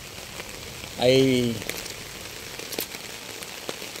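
Heavy rain falls steadily around a vehicle stuck in mud on a waterlogged road, a continuous patter under a short exclaimed voice near the start.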